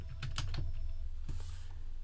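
A short burst of quiet, close keystrokes on a computer keyboard, a few quick taps, a pause, then a couple more.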